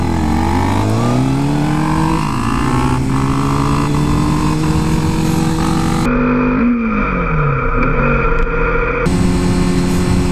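A Suzuki GSX-R 1000 superbike engine revs loud and close on track, pitch climbing through several rising sweeps with a sharp drop and renewed climb partway through, no talk over it.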